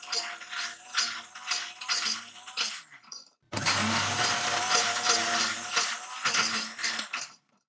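An electric blender grinds ginger with oil into a paste, a loud steady whirring drone that pulses in bursts, stops briefly midway, then starts again harder, with a voice talking faintly over the motor.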